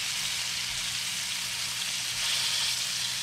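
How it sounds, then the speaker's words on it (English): Deer meat sizzles and hisses steadily in a hot pan, a continuous crackling fry close up with no talking. "even when I'm frying it"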